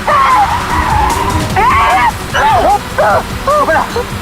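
A car speeds away with loud, repeated tire squeals and skids, the bursts coming one after another during a police chase in a TV crime drama, with a tense voice speaking over the screeching.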